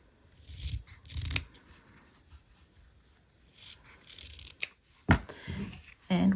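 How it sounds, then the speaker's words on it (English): Scissors snipping quilt fabric corners a quarter inch from the seam line, several soft, close cuts with paper-like rustling in between and a few sharper snips near the end. "I will just trim those 1/4 inch away from that seam"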